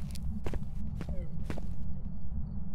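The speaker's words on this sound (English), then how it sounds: "I need to hear footsteps here." Footsteps of a ghost in a ghost-hunting video game: a few distinct thuds land irregularly at close range over a constant low hum, with faint voices in the background.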